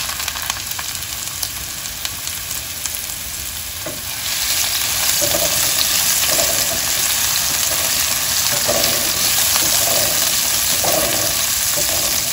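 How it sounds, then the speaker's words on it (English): Green chilies, garlic and mushrooms frying in hot oil for Thai basil fried rice: a steady, close crackling sizzle that swells louder as the ingredients go in, with a few soft stirring scrapes and no talk. "oil is hot, I'm going to throw in our green chilies and garlic."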